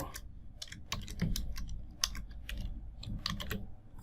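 CSS code being typed on a computer keyboard: a quick, uneven run of crisp key clicks, close and clear against a quiet room.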